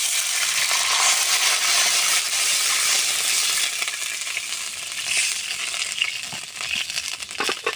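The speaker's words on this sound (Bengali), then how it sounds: "ফোড়নটা হয়ে গেছে, ফোড়নের ভেতর দিয়ে দেবো আমি জল।" Water poured into hot mustard oil tempered with green chillies and five-spice seeds in a wok, producing a loud, close burst of hissing sizzle that gradually settles into softer crackling bubbling.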